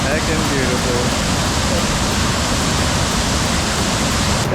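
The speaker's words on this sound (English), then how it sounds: "Standing at the top of the second waterfall." Roaring waterfall at Palenque, Mexico, heard from the top of the second fall above blue pools, a loud steady broadband rush of falling water that fills the whole stretch without a break.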